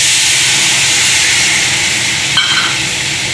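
Hot water hits semolina frying in butter in a pan, bursting into a loud, steady steam hiss that fills the whole moment, with a brief sharper sputter near the end and no talking.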